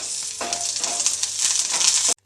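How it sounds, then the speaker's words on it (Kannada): Green chillies and curry leaves crackle and sizzle in hot oil, a loud, close, continuous hiss with quick spattering bursts that stops abruptly. "ಈಗ ಅದರಲ್ಲಿ ನಾನು ಸ್ವಲ್ಪ ಹಸಿ ಮೆಣಸಿನ್ಕಾಯಿ ಮತ್ತು ಸ್ವಲ್ಪ ಕರಿಬೇವನ್ನು ಹಾಕ್ಬಿಟ್ಟು ಹುರ್ಕೊಳ್ತಾ ಇದ್ದೀನಿ"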